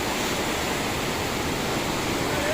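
Two Himalayan rivers, the Bhagirathi and the darker Alaknanda, meet at the Devprayag confluence in Uttarakhand, with a loud, steady rush of fast water that roars broadband and unbroken, close by and with no voices.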